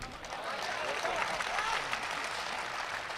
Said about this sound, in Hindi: आपने ताली बजा दी